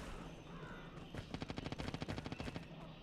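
Rapid automatic gunfire bursts in a shooter video game bomb match, a fast rhythmic string of shots rising out of steady game ambience and then fading back.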